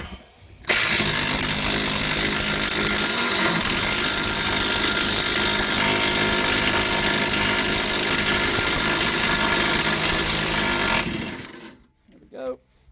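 An impact wrench rattles loose the suspension and shock bolts on a Ford BA Falcon during a 2-inch lift, in one long loud continuous burst that ends abruptly, followed by faint handling noise.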